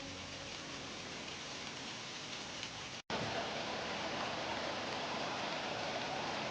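Dense, continuous pelting hail hisses across surfaces in a Las Vegas suburb, briefly cut off by a sudden gap before resuming just as heavily.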